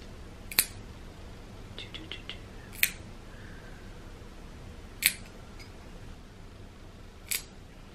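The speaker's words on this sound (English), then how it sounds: "So many of you guys like it when I cut her nails" Nail clippers snipping a cat's claws, four sharp isolated clicks spaced a couple of seconds apart, close and fairly quiet against a faint background hum.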